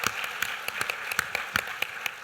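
A small audience claps at a public talk with a senator, with sparse, distinct hand claps at an uneven rhythm, fairly faint and heard alone.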